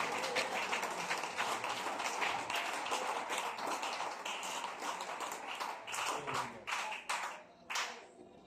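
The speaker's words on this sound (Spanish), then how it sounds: "Aplaudan fuerte siempre al Señor Jesús" A church congregation claps loudly and steadily in a Spanish-language worship service, dense continuous applause that thins into scattered claps near the end.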